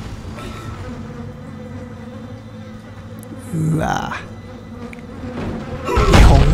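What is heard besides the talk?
flies buzzing in Dead Space video game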